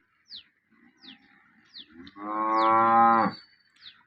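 A single loud, drawn-out cow moo rises to the foreground, with faint short bird chirps repeating at intervals before and after it.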